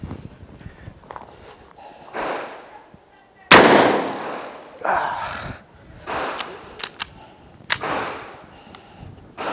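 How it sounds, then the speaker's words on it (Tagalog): A shotgun fires a 1 oz 12 gauge slug at body armor, one sharp loud blast followed by a decaying boom, set among shuffling, handling noises and a few smaller clicks and knocks. "We are using 1 ounce 12 gauge slug by Armscore. Firing!"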